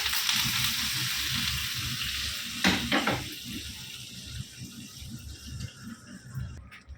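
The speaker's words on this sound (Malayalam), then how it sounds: "അപ്പം ഇതൊന്ന് വറുത്തെടുക്കട്ടെ" A pan for mango curry gives off a continuous sizzle of frying with a brief clatter partway through, heard close and steady.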